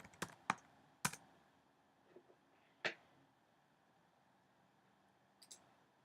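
Computer keyboard typing, a handful of separate sharp key taps spread across several seconds, close and fairly quiet, with pauses between strokes and no talking.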